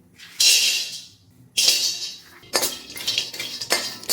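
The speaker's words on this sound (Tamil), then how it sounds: "நம்ம எடுத்து வச்சுருக்கிற முந்திரி பாதாமில் வறுத்துக்கலாம்" Cashews and almonds stirred while roasting in an iron pan, bursts of rattling, scraping clatter in several separate strokes, close and fairly loud with no talk.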